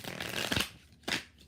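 A deck of stiff tarot cards is shuffled in two quick riffling bursts, close and crisp, with a short pause between them.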